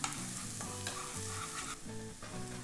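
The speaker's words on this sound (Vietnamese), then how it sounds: "Mình phi cái hành mọi thứ này cho thơm hết đi." Onions sizzle steadily in a hot pan over a wood-fired stove while a utensil stirs and scrapes through them now and then.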